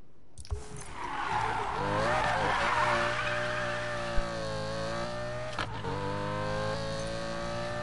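A bright orange Lamborghini racing in Need for Speed, its engine droning and revving with rising, falling tones under long tire squeals and skids, close and steady, broken by a couple of sharp knocks.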